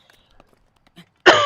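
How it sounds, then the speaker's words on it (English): A streamer gives one sharp, loud cough after a stretch of near silence with a few faint soft noises, the cough bursting out close to the microphone near the end. "Ah, man, this cough though,"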